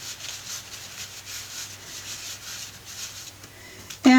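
A damp brush scrubs a paint wash onto stencil card in steady back-and-forth strokes, soft and close, with a brief louder knock at the very end.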